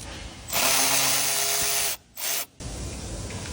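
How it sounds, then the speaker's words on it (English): A power tool whirs in two bursts, a long one then a brief one, while removing a bolt on a 2013 Mercedes-Benz C250, close and loud over a faint room hiss. "Next, I'm going to remove this bolt and the one under here."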